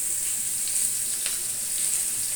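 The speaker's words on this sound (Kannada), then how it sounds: "ಎಣ್ಣೆ ಹಾಕಿದ್ದಾರೆ ಈರುಳ್ಳಿ ಹಾಕ್ತಾ ಇದ್ದಾರೆ" Onions frying in hot oil for a chicken curry, a dense, even hiss that carries on without a break, close and loud, with a few faint stirring scrapes and no talking.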